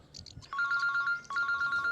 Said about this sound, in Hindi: हर 10 मिनट बाद फोन कर रही है।